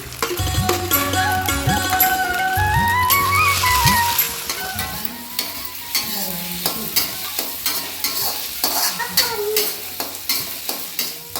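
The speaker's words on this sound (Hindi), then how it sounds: "उसके बाद इसमें हम मटर डाल देंगे, तो मटर को भी पकाना ही है, इसी में फ्राई ही करना है।" Peas and onion fry in a pan while a spoon stirs and scrapes through them in repeated strokes, the sizzle running beneath melodic background music.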